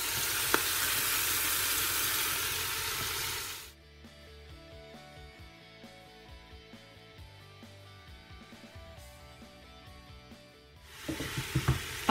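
Vegetables sweating in a pan for a pumpkin cream soup give off a steady, fairly loud sizzle at the start and end, with a quieter, tonal stretch in between.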